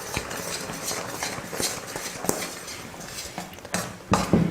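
Metal spoon scraping and clinking against a pan while ghee and milk powder are stirred into sugar syrup for Mysore pak, a steady rhythm of close scrapes with a few sharper knocks.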